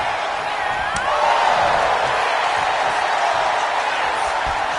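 Steady roar of a large arena crowd cheering at a wrestling match in the WWE 2K25 video game, loud and continuous throughout with brief swells and no clear voices on top.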